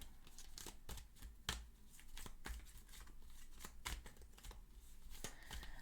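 Tarot cards are shuffled close by in quick riffling bursts and soft slaps, a steady flurry of papery snaps with no talking.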